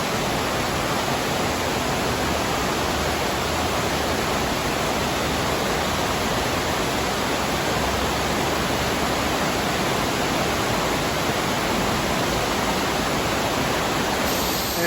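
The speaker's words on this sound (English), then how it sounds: "you'll notice just behind me the sound. Cicadas everywhere." Cicadas fill the air along a riverside walking trail in South Korea in summer, a dense, steady high buzzing wash that continues without pause and without speech.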